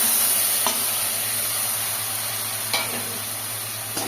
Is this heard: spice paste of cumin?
yes